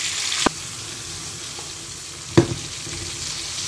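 Cherry tomatoes go into a hot pan for a recipe with wild fennel, sultanas and cherry tomatoes, and a steady close sizzle follows, broken by two brief sharp clatters as they drop in.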